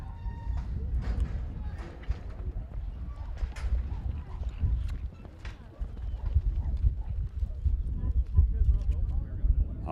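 Hooves of a grade horse named Hawk clip-clop and thud across the arena dirt during a head-horse run at a rope horse futurity, an irregular sequence of close impacts under a commentator's voice and crowd noise.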